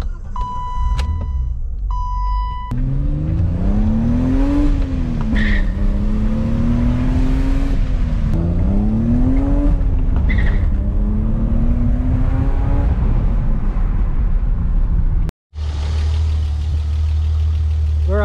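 A BMW E30 on a test drive after a C191 connector repair, its engine climbing and easing through several gears at close range, then cutting out briefly before a steady low hum resumes, with no one speaking.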